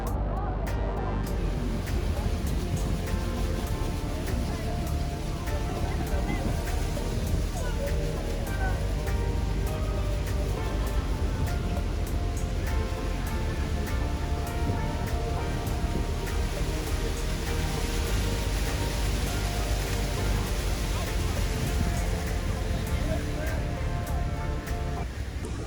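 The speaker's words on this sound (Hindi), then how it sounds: "6 मिलियन क्यूबिक फीट पानी नियाग्रा फॉल्स के अंदर हर मिनट के अंदर बह रहा होता है" Niagara Falls roars in a steady, dense wash of rushing water that runs unbroken throughout, loud and close, while someone talks over it.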